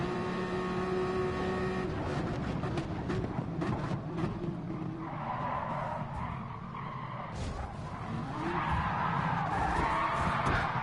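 A GT Sport race car skids out of control in an FIA GTC race, tires squealing in long smeared bursts over steady engine drone, with a second squeal rising near the end.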